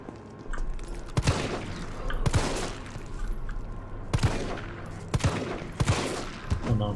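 Gunshots in the video game Resident Evil 3 Remake: several sharp, loud single shots spaced irregularly, some in quick pairs, over a low rumbling game ambience.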